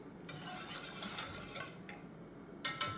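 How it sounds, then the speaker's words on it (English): A whisk scrapes and swishes quietly through a milk sauce in a pan in a few short bursts, ending with two sharp metallic taps on the pan rim. "So you really should whisk it, not constantly, but frequently."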